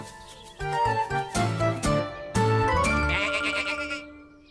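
Cartoon sheep on a farm bleat in a lively run of voiced calls mixed with a bouncy tango tune and jingling accents, loud and near, with no speech.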